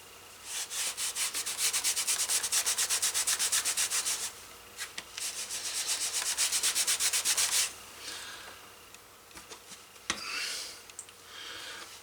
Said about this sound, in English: I'm going to give it a sand with some 220 and burnish it again